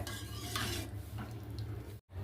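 Spoon stirring sugar in a pan until it melts for rava payasa, quick scraping and clinking against metal over a faint sizzle, with a brief gap near the end.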